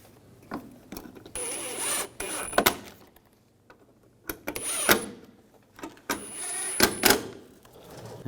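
A power driver or ratchet tightens screws on the AC condenser of a 2011-2018 Volkswagen Jetta, giving three close, loud whirring bursts of a second or so each, with sharp metallic clicks and knocks between them and no talking.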